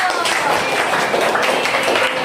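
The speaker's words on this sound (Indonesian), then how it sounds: "Tepuk tangan dulu" Schoolchildren in a classroom biology lesson applaud together, a steady dense patter of clapping filling the whole stretch, with some talk underneath.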